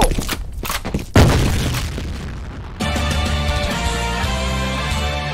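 A grenade explosion in the shooter video game F.E.A.R. Combat, a loud close boom with a rumbling tail, followed by an abrupt shift into steady droning game sound.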